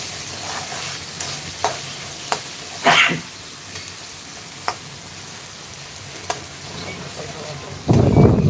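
Poha ingredients with tomato are stirred and sautéed in a pan, giving a steady sizzling hiss broken by sharp spoon scrapes and clinks against the pan, with a louder burst of sizzle near the end.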